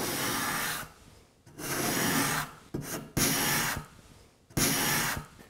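A freshly burred card scraper shaves wood in four long, rasping strokes with brief pauses between them, close and fairly loud, with no voices.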